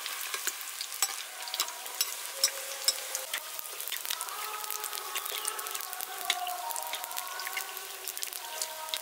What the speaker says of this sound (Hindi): हम सेम तरीके से डालेंगे भटूरे को, और गर्मा गर्म तेल इस पे डालेंगे।